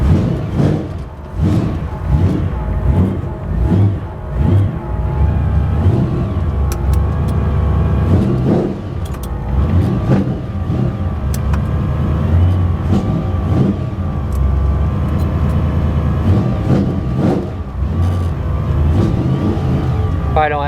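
A 1966 Ford Fairlane 500 engine with glass pack exhaust runs loud and close, a deep throaty rumble with rhythmic pulses and occasional blips of revving throughout.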